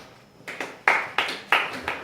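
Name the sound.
classroom students clapping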